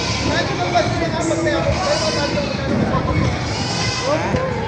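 A bearded billy goat bleats repeatedly and loudly at close range, its wavering cries mixed with other livestock calls while people talk nearby.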